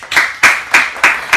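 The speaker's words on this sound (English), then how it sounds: "let's give a big round of applause for our first guest" Steady, evenly spaced hand claps for a show guest, about four per second, close and loud, with no voices.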